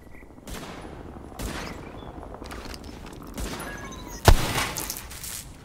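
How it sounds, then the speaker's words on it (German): Gunfire in The Division video game aimed at an object: scattered sharp shots over several seconds, closing with one loud close blast followed by a shattering burst, with no talk. "Schieß mal drauf."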